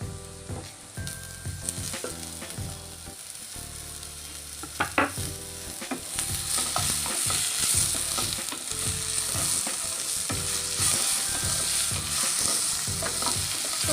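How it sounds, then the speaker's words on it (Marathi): Chopped tomatoes frying in a pan for palak paneer, a crackling sizzle that grows stronger while a spoon scrapes and clatters through the pan in irregular strokes. "टोमॅटो मऊ होईपर्यंत भाजायचं आहे, एकसारखं भाजून घ्यायचं।"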